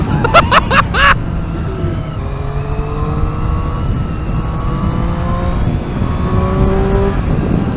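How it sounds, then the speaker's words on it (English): A loud 2023 Triumph Street Triple R motorcycle engine revs sharply a few times, then drones steadily with rising and falling pitch and a rasping intake roar. "Oh, that induction noise!"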